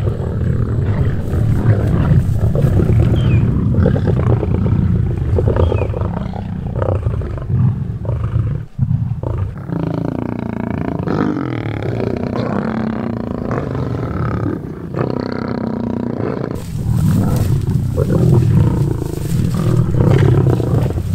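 Lions give deep, rumbling roars and growls up close while devouring a young buffalo, a loud, continuous guttural din that swells and eases over about twenty seconds.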